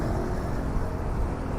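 Steady road traffic flows past the Simpang Sekip flyover, a continuous low rumble of cars and engines with no distinct passes standing out, heard from close by.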